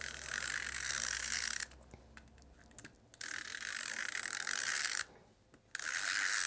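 An adhesive applicator ratchets steadily as strips of paper are glued together for a mini album, the buzzing clicks running in loud close bursts broken by two short pauses.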